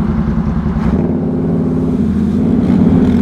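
A stock 2022 Honda ATV engine labours through deep mud in a loud, close, steady drone, with slight surges as the throttle works.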